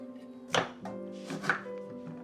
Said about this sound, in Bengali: এবারে কাটবো কাঁচামরিচ ধনিয়া পাতা অল্প একটু লেটুস পাতা